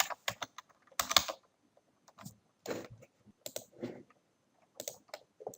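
Typing on a computer keyboard while entering a campaign title in CRM software, with short bursts of key clicks separated by pauses, close and fairly quiet with no talking.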